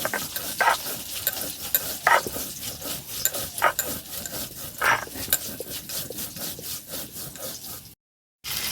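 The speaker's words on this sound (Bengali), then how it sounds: "বেগুনটা ভাজা হচ্ছে" Eggplant fries in a pan at home, a steady soft hiss and sizzle with occasional scraping stirs of a spatula, fairly quiet and with no talk, cutting briefly to silence near the end.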